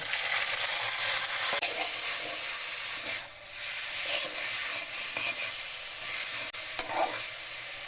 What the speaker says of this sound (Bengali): এখন আমি সেদ্ধ করা শাকগুলো দিয়ে দিব